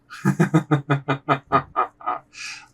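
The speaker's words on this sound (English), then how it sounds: "hear the duck coming from the east." A duck quacks in a quick, evenly spaced run of about ten nasal calls, heard close and clear, ending on one longer, drawn-out quack.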